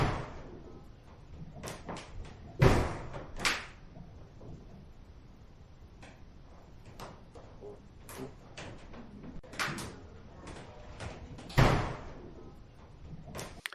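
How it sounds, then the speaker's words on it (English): Door banging repeatedly, with two heavy slams standing out loud against a series of lighter knocks and rattles spread across the stretch, no voices. "this is the door banging"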